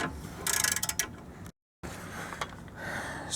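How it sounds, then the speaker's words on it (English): Bolts being removed from the lower radiator support of a 2014 Ford Escape give a run of close ratcheting clicks and metallic mechanism noise, a brief gap, then quieter tool rattles and scraping. "we'll go and take those two bolts out"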